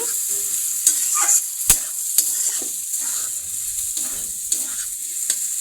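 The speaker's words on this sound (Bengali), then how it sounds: "এই যে পোলাও দিয়ে ভাজছি।" Leftover pulao rice being stir-fried in a pan for homemade vegetable Chinese noodles, with a steady sizzle under repeated scraping and clanking of a spatula stirring the rice, close up.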